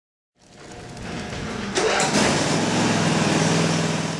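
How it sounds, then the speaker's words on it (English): A Briggs & Stratton tractor engine starts up and settles into a steady, moderately loud mid-pitched running drone, alone without speech. "The engine should be run for 10 minutes to allow the treated fuel to reach the carburetor."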